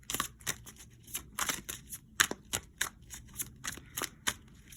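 Cards for a reading are shuffled by hand in a quiet room, making a series of crisp, close riffling bursts in an uneven rhythm.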